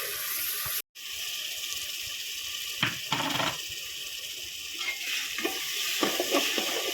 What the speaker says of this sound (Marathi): आता टोमॅटो घालू आणि वाटण केलेलं ते पण त्याच्यामध्ये भाजायला। वाटण चांगलं परतून घ्यायचंय।